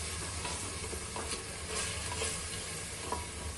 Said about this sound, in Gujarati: હવે એને આપણે મિક્સ કરી દઈશું।